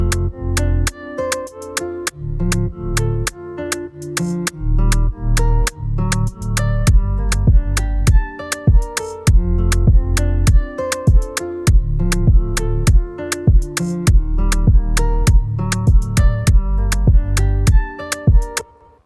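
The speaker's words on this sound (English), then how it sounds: "I got the drum loops from my drum kit, Afro Rhythms, and this is what it sounds like" An Afrobeats drum loop from the Afro Rhythms kit bounces along steadily, with punchy low kicks, crisp repeated percussion hits and a tuned tonal layer, looping loud and close for the whole stretch.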